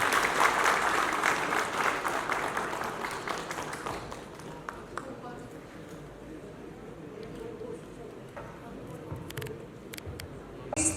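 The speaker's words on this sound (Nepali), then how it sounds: "उहाँलाई जोरदार तालीको साथ" Audience applause at a Nepali TV quiz-show event fills the start with loud, dense clapping, then thins to a scattered patter under talking before a brief swell at the end.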